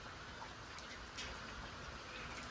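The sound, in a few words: rain falling outside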